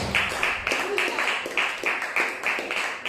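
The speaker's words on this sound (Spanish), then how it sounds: "Dele fuerte la ofrenda de aplauso a nuestro Dios." A church congregation claps together in a steady, even rhythm, about ten loud sharp beats close by, with no talk over it.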